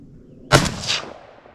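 A single loud rifle shot cracks out from a hunting stand over wild boars and is followed by a long, fading rumble of echo across open ground.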